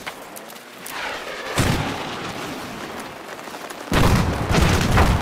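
Battlefield 4 gunfire: bursts of shots and booming blasts, loud and close, with a heavier burst partway through and another dense volley near the end, no talk.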